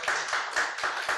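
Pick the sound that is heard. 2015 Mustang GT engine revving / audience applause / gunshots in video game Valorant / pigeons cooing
audience applause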